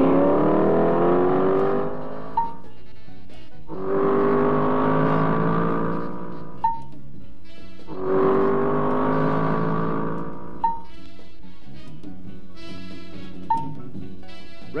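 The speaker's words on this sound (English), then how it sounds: "Give her the gas and go." A 1965 Dodge Dart GT engine revving up in three long surging pulls, each climbing in pitch and then cutting off with a sharp click, loud and close, followed by quieter quick blips toward the end.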